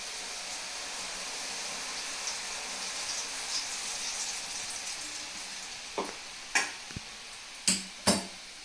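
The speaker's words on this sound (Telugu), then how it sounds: "ఈ ఇంగువ నూనె ఇందులో పోసుకోవాలి" Hot asafoetida tempering oil poured into tokku pachadi gives a steady, close sizzle, followed near the end by a few sharp clinks of a metal utensil.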